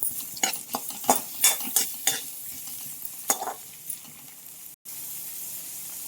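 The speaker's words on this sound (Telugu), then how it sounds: "ఇప్పుడు ఆనియన్స్ వేసుకుందాం వేసి ఒకసారి కలుపుకుందాం" Onions and curry leaves sizzle in a hot pan for a Telugu ivy gourd fry, with close spoon scrapes and stirring clatter that come in bursts over a steady frying hiss, followed by a short break.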